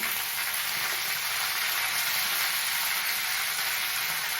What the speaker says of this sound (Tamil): இந்த கீரையை போட்டு வதக்கணும்.